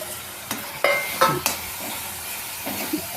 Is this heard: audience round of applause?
no